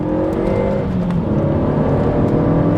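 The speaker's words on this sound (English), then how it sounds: "The occasional pop and crack from the back end, foot down out of the corner." A 2014 Renault Megane RS265 hot hatch accelerating hard out of a corner, its engine a loud, close, continuous roar with faint crackles and pops from the exhaust.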